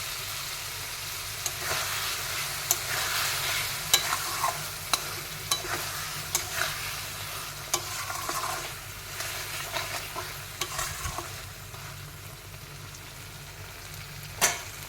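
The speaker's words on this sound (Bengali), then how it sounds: "এবার আলুর সঙ্গে আর একটু কষিয়ে নেব।" Potatoes stir-fried with spices and tomato paste in a pan, a steady sizzle under repeated scraping and clacking stirs from a spatula, close and continuous throughout.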